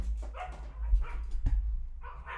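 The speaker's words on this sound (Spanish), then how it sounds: "¿Ustedes escucharon a mis perros como me están traqueando?" Dogs bark in several short, sharp bursts, some close and some muffled, with irregular pauses between them.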